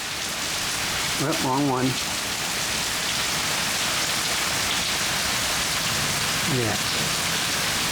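Steady, heavy rain pours down in stormy weather, a dense unbroken hiss throughout, with a person speaking briefly over it twice.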